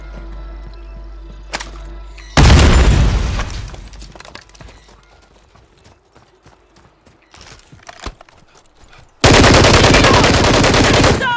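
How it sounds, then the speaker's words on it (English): Call of Duty Warzone battle royale combat: loud bursts of rapid gunfire and explosive blasts, split by a quieter stretch of scattered clicks and impacts before another intense burst of firing. "Grenade out!"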